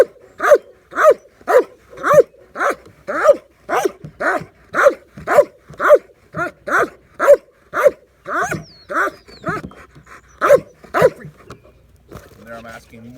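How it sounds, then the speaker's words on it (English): A dog in bark training gives a long run of intense, evenly paced barks, loud and close, about twenty in steady rhythm, with a handler's voice briefly at the end. "I'm asking more and more and more barking, more activity, better cadence, better rhythm, better pitch"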